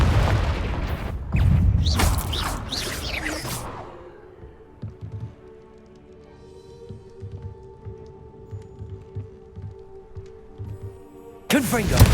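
A Confringo fire spell in Hogwarts Legacy blasts with a loud booming burst, followed by a quieter stretch with faint low rumbles before another sharp burst at the end; a voice speaks near the start.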